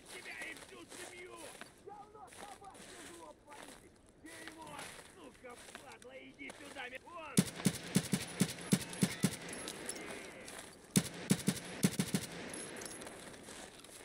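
Rapid gunfire in Escape from Tarkov SPT, several bursts of sharp automatic shots at fairly close range with quieter ambient game noise before them.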